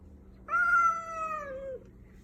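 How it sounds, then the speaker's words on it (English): A cat outdoors at night lets out a single drawn-out, clear meow lasting over a second, close and fairly loud against a quiet background. "This is why kitties can't go outside at night."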